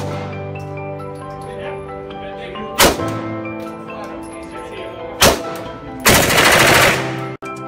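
Gunfire at the Battlefield Vegas shooting range: three loud, sharp shots ring out a few seconds apart, the last one a short rapid burst, over a droning indoor background with voices faintly present.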